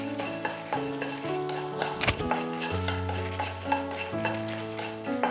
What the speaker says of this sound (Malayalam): നല്ലതായിട്ട് വറുത്തെടുക്കാം